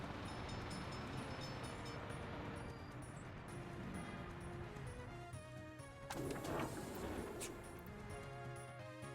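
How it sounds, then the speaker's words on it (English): A delivery train rolls in at a station in the Soviet-era city-building game Workers and Resources: Soviet Republic, a steady rumbling rail clatter with sharp metallic clanks and screeches near the end, no talk over it. "here comes another delivery train"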